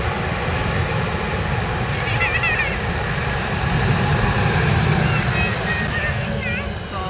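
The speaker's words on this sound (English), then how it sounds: "Transavia Airlines Airbus A321 landing right" A Transavia Airlines Airbus A321 lands at Amsterdam Schiphol's Polderbaan runway on a flight from Marrakesh, its engines a steady, loud roar with rumble and whine that persists throughout, with faint background chatter.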